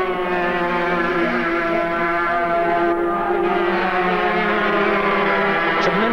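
Two-cylinder, two-stroke, water-cooled rotary-valve superkart engines whine steadily at high pitch at Silverstone in 1987, several motors overlapping in a sustained buzzing drone, close and loud throughout.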